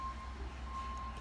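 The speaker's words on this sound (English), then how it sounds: "No, I think that was a garbage truck." A single steady electronic reversing beep tone from a garbage truck sounds over its low, distant engine rumble.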